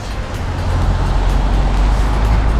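Cars move through street traffic at a crossing in a very cold town, a loud, continuous low rumble of engines and road noise close by.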